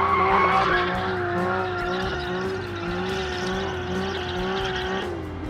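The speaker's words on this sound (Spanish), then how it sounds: "Un par de locos aquí quemando goma." Car tires squeal continuously while a driver does a burnout burning rubber, a loud sustained screech over a low engine drone lasting the whole stretch with no talking.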